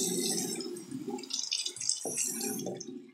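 Tap water runs and splashes steadily while makeup brushes and a makeup blender are rinsed under it, with shifting gurgles and drips close by and no talking.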